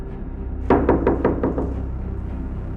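A guest knocks on a house door: a clear series of six sharp raps in quick, even succession, close and fairly loud, followed by quiet room tone.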